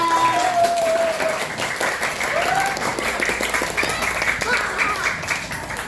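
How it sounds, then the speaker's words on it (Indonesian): Sustained applause from a class of third-grade students, a dense, steady patter of many hands clapping together for the full length, fairly loud and close, with a few faint voices mixed in. "Tepuk tangan dulu untuk kelas 3."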